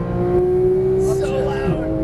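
A Porsche GT3 991 on a race track holds a loud, steady engine drone as it accelerates under throttle, with a slight pitch shift near the end; a voice speaks over it from inside the car.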